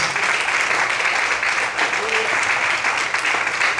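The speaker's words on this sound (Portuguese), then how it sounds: "Mais fortes as palmas." A church congregation applauds continuously, a dense, steady wash of clapping that fills the room throughout.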